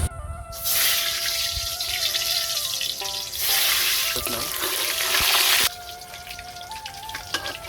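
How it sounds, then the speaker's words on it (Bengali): Boiled eggs fry in hot oil in a village kitchen, with loud bursts of hissing sizzle that surge and fade in waves, plus some faint clinks between them. "এবার আমি ডিমগুলো ভেজে নেব।"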